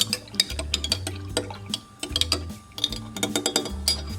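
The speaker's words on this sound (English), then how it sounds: "Stir this up." A spoon stirs a milk drink made with evaporated milk in a cup, producing quick ringing clinks against the sides in short bursts with faint liquid swirl and no speech.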